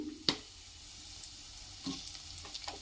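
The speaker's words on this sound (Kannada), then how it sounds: "ಈಗ ನಾನು ಹೆಚ್ಚಿಟ್ಕೊಂಡಿರೋ ವೆಜಿಟೇಬಲ್ಸ್ ಅಷ್ಟನ್ನು ಹಾಕ್ಕೊಳ್ತಾ ಇದ್ದೀನಿ" Chopped vegetables and onion dropped into a hot pan for vegetable rice, giving a soft sizzle with a sharp clatter near the start and a few fainter stirring scrapes later, quiet and without talk.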